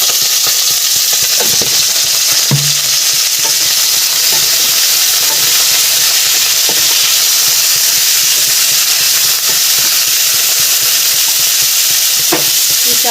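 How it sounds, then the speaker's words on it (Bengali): Cauliflower frying in hot oil in a pan, a loud, continuous sizzle and hiss with occasional scraping knocks as a utensil stirs the pieces, close up and without any voices. "কপিগুলো একটু লাল লাল করে ভাজবো"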